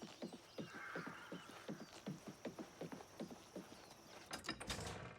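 Steady, rhythmic hoofbeats of a bay horse clop along at a trot in the video game Oblivion, followed by a loud whinny near the end.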